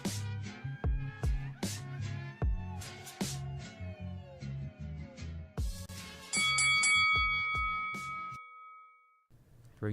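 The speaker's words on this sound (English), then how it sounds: "Ring the bell. Bing, bing, bing." A bright bell rings out with several clanging dings over a busy musical intro for a boxing podcast, with a sustained high ringing tone near the end before it cuts off.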